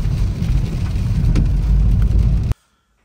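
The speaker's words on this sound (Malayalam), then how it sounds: "അടിപൊളി മഴ, അടിപൊളി നല്ല മഴ." Heavy rain pours down in a loud, unbroken roar that cuts off abruptly near the end, leaving near silence.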